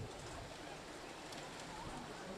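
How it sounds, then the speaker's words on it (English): Rain falls steadily onto an outdoor football field during a junior varsity game, a faint, even hiss throughout with no clear voices over it. "Rain continues to drive down here."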